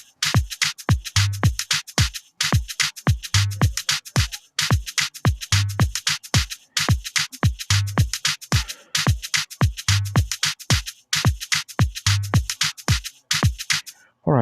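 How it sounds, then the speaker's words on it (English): A looping drum pattern with added percussion programmed in FL Studio Mobile, sharp kicks and snappy hits repeating in a steady, busy rhythm, loud and close with no talking. "With a percussion it sounds like this."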